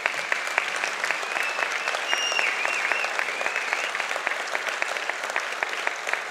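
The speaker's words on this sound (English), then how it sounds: "You can clap for that." Audience applause after a patriotic line at a legacy medal presentation honoring a Marine staff sergeant, a dense, steady patter of many hands sustained for several seconds at moderate distance, with no talk over it.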